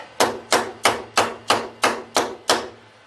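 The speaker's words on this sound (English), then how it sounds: "Tap it down so the blocks don't move." Eight evenly spaced sharp taps from a hammer settle stacked metal blocks lightly clamped in a mill vise, close and crisp with quick decays and nothing else heard.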